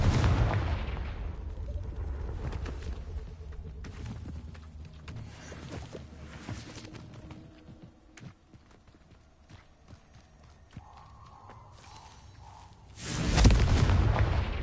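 Confringo blasting spells in the Hogwarts video game, a few booming explosive impacts scattered through the stretch, ending in a loud heavy blast near the close, with no talk.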